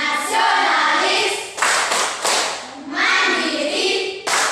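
A classroom of schoolchildren performs the rhythmic Tepuk PPK clapping chant, bursts of group clapping mixed with chanted voices, loud and close, with a few pauses between rhythmic sections.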